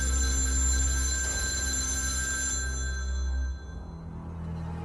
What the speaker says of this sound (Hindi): तभी एकदम से एक टेलीफोन की घंटी बजने लगी।